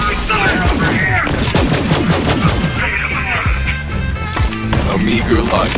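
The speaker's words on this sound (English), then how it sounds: "Hey, cover fire over here!" Borderlands 3 combat crackles with dense bursts of gunfire and impact crashes over a busy score, while voices shout over the action.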